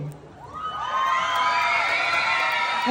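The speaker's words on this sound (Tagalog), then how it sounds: "kung wala pong malakas na hiyawan." Pageant crowd in Laur, Nueva Ecija, erupting into loud cheering, shouting and whooping, swelling after the first second and holding at full strength to the end.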